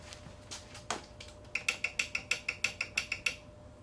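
A new arrow clicker on a 1966 Bear Tamerlane hunting recurve bow rattles in a quick run of about a dozen sharp metallic ticks, close and crisp after a few softer taps.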